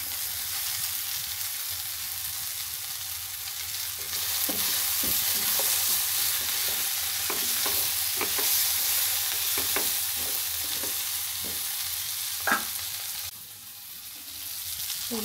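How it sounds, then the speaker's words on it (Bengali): Noodles and peanuts are stir-fried in a pan, with a constant close sizzle broken by a series of scraping, clinking spatula strokes, and a brief louder clatter near the end. "বন্ধুরা, এটা দিয়ে দিচ্ছি নুডলস।"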